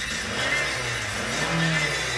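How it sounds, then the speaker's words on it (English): A 2008 Honda Element EX engine with 156,000 miles runs close by, its low hum rising briefly in a mild rev and settling back to a steady idle. "Revs up nicely, idles smoothly."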